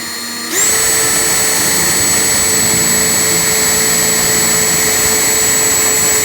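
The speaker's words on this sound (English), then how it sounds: "And now I can drill a hole where I marked it, so I can use the retainers provided." A power drill bores a hole through the plastic fender liner of a 1998–2011 Ford Ranger while fitting mud flaps, starting abruptly and holding a loud, steady whine with no pause, close by and alone.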